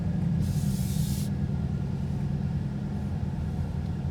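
A 2021 Ford Mustang Mach 1 with a 10-speed automatic pulls away, its steady low engine rumble filling the cabin, with a brief hiss of air early on.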